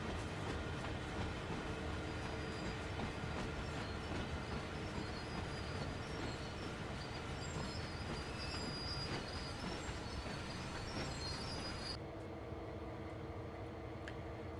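A train switching boxcars in the Train Sim World 2 game rolls steadily, with continuous rumble, wheel squeal and rail clatter throughout, the sound thinning near the end; no talk.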